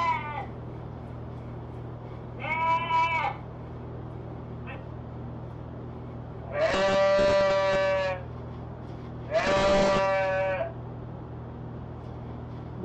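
Sheep in Conrad Stevenson's Paranormal P.I. video game give three loud, harsh bleats, a short one early then two long strained calls a few seconds apart, close and alone over a steady low hum.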